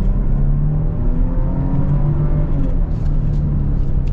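An armored Ford Explorer ST Police Interceptor accelerates hard, its engine note rising steadily in a loud, close, continuous drone with road rumble underneath.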